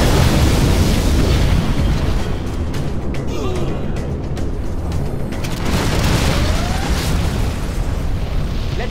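A nuclear missile detonation in the strategy game Command & Conquer Generals Zero Hour, a loud, sustained rumbling roar of blast and debris that fills the whole stretch, with intermittent crackling bursts layered over it.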